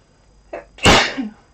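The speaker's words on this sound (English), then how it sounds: "gonna sneeze" A single sharp sneeze with a brief breathy wind-up, loud and close, followed by a short exhale.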